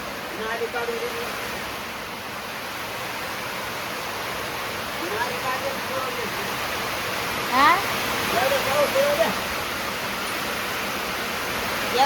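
Heavy rain pours steadily over a house in a village, with water running inside; the dense broadband rush stays loud throughout, and voices talk faintly beneath it.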